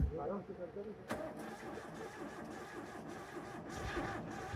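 A Suzuki Cultus car engine, just overhauled, is cranked on the starter, a sharp start followed by a steady rough churning that carries on, with someone talking over it.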